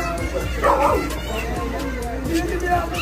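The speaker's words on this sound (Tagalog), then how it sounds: "Ang daming aso" Several dogs bark and yip at a distance, overlapping with voices and general outdoor commotion.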